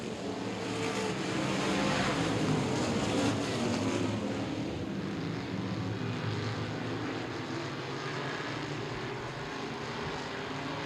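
Modified race cars racing at Baer Field Speedway, a loud, continuous roar of engines that swells and then drones steadily as the pack circles the track at some distance.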